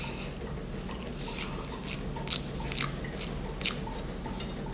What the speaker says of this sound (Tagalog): kumakain ako ng brown rice. Ang hirap nguyain.